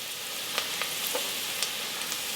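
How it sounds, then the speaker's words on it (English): One large onion, diced about a quarter inch, cooks in a tablespoon of oil, giving a soft even sizzle with a few light crackles and pops, no one speaking. "I'm cooking one large onion, cut about 1/4 inch dice, in 1 tablespoon of oil for about 5 minutes."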